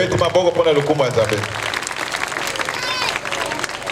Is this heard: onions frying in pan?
no